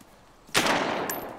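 A single loud gunshot in the video game DayZ bursts after a quiet moment and leaves a short noisy tail.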